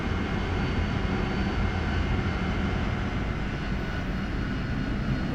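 Jet engine of an AV-8B Harrier in the DCS flight simulator, a dense, steady roar that holds loud and continuous throughout with no voices.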